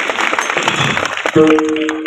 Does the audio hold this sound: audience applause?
yes